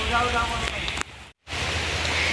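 Heavy rain pours down at a village temple in Odisha, a dense steady hiss of falling water that briefly drops out before returning just as strong.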